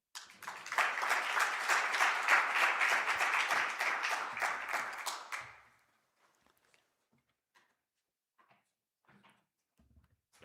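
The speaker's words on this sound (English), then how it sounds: "Another round of applause to the Deputy Governor." Audience at a housing research seminar clapping steadily and loudly for about five seconds, then fading out, leaving near-silence with faint scattered room sounds.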